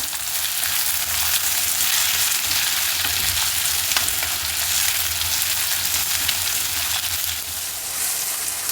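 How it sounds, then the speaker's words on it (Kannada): Chopped onion and tomato fry in hot tempering oil for vermicelli biryani, giving a steady, close, loud sizzle with faint stirring scrapes throughout and no voices. "ಈರುಳ್ಳಿ ಟೊಮೆಟೊ ಎರಡು ಸ್ವಲ್ಪ ಒಂದು ನಿಮಿಷ ಹುರಿದೆ ಒಗ್ಗರಣೆಯಲ್ಲಿ"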